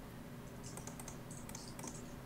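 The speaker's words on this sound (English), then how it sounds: "I'm typing. I want to type." Rapid clicking of computer keyboard keys while typing into a Minecraft game chat, uneven bursts of soft, close keystrokes with no talking.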